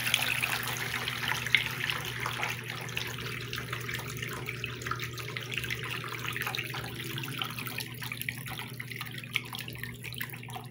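Water runs steadily from a digital washing machine draining during its spin cycle, a continuous rushing, splashing flow with a low steady hum beneath, close and fairly even throughout.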